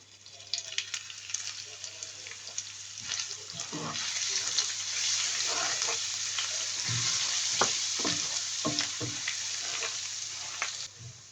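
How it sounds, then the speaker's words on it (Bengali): Chopped garlic and ginger fry steadily in a pan, a loud continuous sizzle with intermittent stirring scrapes and clicks across the whole stretch. "রসুন আদা ভাজা হয়ে গেছে"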